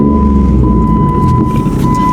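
A Jeep SRT engine, already warm after a drive, runs with a steady low rumble that holds even and loud throughout, with no distinct throttle blips standing out.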